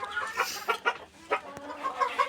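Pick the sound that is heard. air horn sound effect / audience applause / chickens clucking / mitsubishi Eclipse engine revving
chickens clucking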